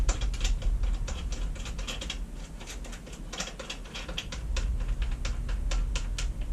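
Metallic ratcheting and scraping as a reloading die is screwed down into a reloading press for .338 Lapua cartridges, a dense run of close, rapid clicks and grinding turns.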